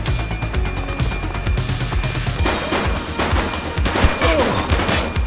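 Gunfire from the police video game The Precinct, a dense fusillade of overlapping shots over a continuous rumbling game backdrop, loud and close, with no voices.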